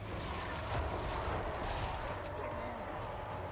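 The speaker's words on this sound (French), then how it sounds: "c'est quelques tirs amis" Artillery cannons firing during a Total War Warhammer 3 battle, a dense continuous rumble of distant booms and crackling blasts that fills the clip at moderate loudness, with no one talking.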